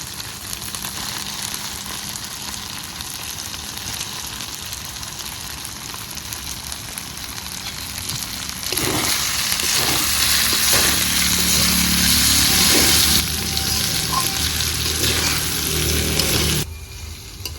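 Fried potatoes and cauliflower sizzle loudly in a pan, a dense continuous hiss that swells and grows brighter partway through before cutting off near the end, with no voices.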